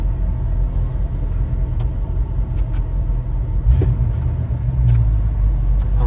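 A 1968 Ford Mustang convertible engine idles with a steady, loud, low rumble close by, a few faint clicks on top and a slight swell as it is put in gear.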